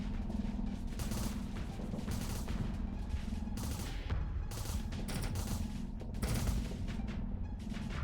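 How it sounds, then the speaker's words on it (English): Sustained video-game gunfire from long-range shotguns in a chaotic battle, a dense, loud barrage of overlapping shots and booms that continues without pause throughout. "it has like long range shotguns"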